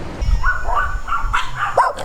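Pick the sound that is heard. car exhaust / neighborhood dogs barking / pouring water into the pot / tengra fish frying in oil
neighborhood dogs barking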